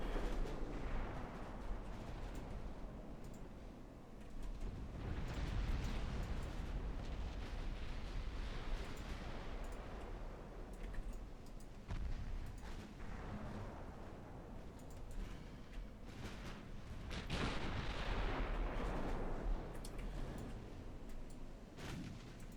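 Naval guns fire salvos in the warship game Ultimate Admiral Dreadnoughts, with heavy rolling booms and rumbling blasts that overlap continuously and swell toward the end.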